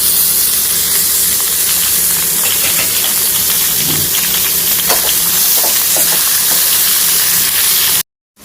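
Chilies and tomatoes fry in hot oil for a spicy tomato garlic chutney, giving a loud, continuous close sizzle and hiss with scattered crackles and pops throughout.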